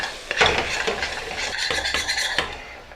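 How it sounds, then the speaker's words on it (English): A spoon stirs and scrapes briskly across the bottom of a pot, working browned fond loose while making French onion soup: a run of close, gritty metallic scrapes and clinks in an uneven rhythm, with no talking. "I just worked all of the fond off of the bottom of the pot onto my spoon"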